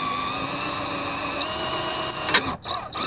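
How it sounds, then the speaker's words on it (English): A power drill whines steadily while drilling out a rivet on a 2002 Mercury Mountaineer window regulator. The tone is close and continuous, then stutters and drops out near the end as the bit catches. "you're drilling out the center and you're not starting to drill into the holder that holds the sash."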